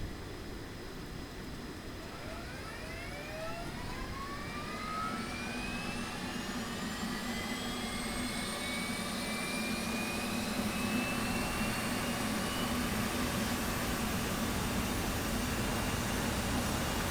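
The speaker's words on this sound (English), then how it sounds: "We'll go ahead and get the APU going now." An F/A-18 Hornet auxiliary power unit spools up in the DCS World flight simulator, a rising turbine whine that climbs steadily in pitch over a constant low roar, loud and continuous with no talk.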